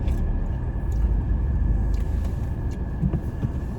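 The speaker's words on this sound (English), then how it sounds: "I'm not in my truck. I'm in my car." Inside a moving car on the road: a steady, low rumble of engine and tyres fills the cabin at an even level throughout, with no talking.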